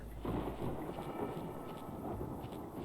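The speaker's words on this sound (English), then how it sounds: "Why does it sound like thunderstorms?" A game thunderstorm in Fallout: New Vegas: a steady, dense rumble of wind and rain-like noise that fills the whole stretch, loud and continuous, with no speech.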